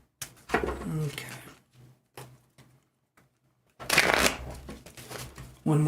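Tarot cards are shuffled in several quick riffling bursts separated by short pauses, close up, with a voice speaking faintly between them.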